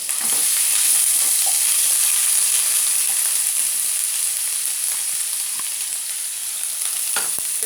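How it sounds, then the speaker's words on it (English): Garlic paste sizzles steadily in a hot pan for several seconds, a loud, continuous frying hiss with a few soft knocks and scrapes from a wooden spoon stirring it. "I'm gonna throw in first my garlic. I'm gonna use my wooden spoon,"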